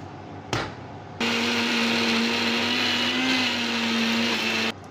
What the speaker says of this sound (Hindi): अभी मैं मसाला पेस्ट करूँगा। इसका अंदर है धनिया, जीरा,